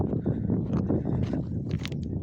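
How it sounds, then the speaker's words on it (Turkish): Wind rushes and buffets against the microphone beside a stream in a constant low roar, with faint movement noises underneath. "Rüzgar için kusura bakmayın. Hava bayağı rüzgarlı."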